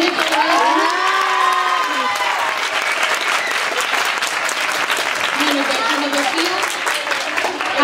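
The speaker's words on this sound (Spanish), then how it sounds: "así que aplaudamos" A large crowd applauds steadily and loudly throughout, with a few cheers and whoops rising over the clapping.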